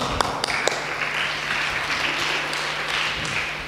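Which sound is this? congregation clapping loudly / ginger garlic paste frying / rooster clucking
congregation clapping loudly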